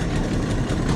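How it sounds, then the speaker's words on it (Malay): A boat engine idles on a river at Mawai, Johor, during a river prawn fishing trip, giving a close, steady low rumble with even vibration and no pauses. "Okey, enjin masih hidup."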